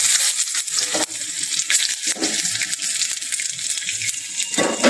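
Flat bean seeds fry in hot oil with dried chillies and bay leaves, a continuous hissing sizzle broken by a few scraping stirs, close and fairly quiet.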